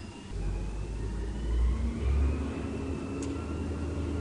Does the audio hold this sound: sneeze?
no